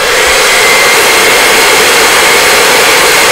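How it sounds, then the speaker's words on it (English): A hair dryer blows steadily on wet paint being dried on a garden gate, a loud, continuous close-up whoosh with no break and no talking. "Yeah, hair dryer."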